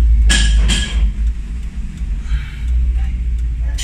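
A car engine with a no-acceleration fault cranks and catches, two sharp bursts followed by a loud, steady running rumble, close up with no talking.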